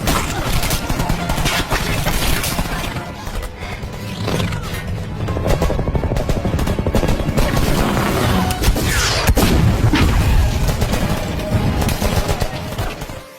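Dense action-film battle between ninjas and civilian guards, with rapid gunfire bursts, booming impacts and scuffling hits layered loud and continuous, no voices standing out.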